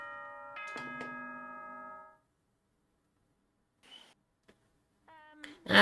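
Announcement chime from Danganronpa 2 rings out as a bright tonal electronic ding-dong with sustained harmonic notes for about two seconds, followed by silence and a few faint clicks before a loud burst at the end.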